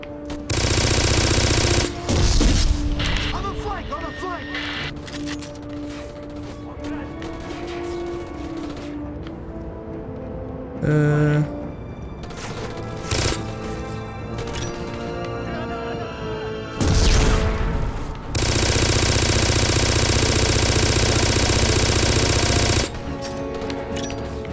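Rapid machine-gun bursts and single gunshots fire at the player in the video game Black, loud and close, alternating with quieter stretches of scattered shots and game sounds.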